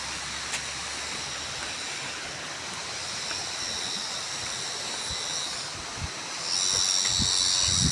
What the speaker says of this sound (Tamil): மக்கள்ஸ் அங்கே கீழெல்லாம் தண்ணி போகிறது தெரியுது பாருங்கள்.